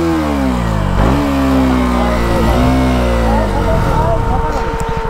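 Vehicle tyre burnout on soil ground: a loud, close engine revs hard, its pitch dropping and climbing again in surges before easing off, with a voice talking over it.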